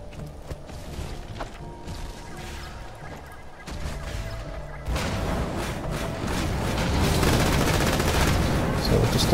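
Grenades thrown at enemies in Borderlands 2 go off in a loud burst of explosions and gunfire-like crackle that builds toward the end, over quieter game ambience at the start.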